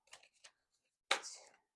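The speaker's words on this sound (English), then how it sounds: "I'm going to do 3 more shuffles." A deck of tarot cards being shuffled by hand: a couple of soft, quick card flicks followed by a sharper riffle burst, close and quiet in an otherwise silent room.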